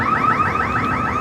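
A fence alarm at a Washington, DC site wails in rapid, repeating rising sweeps, loud and close, sounding alone with no talk over it.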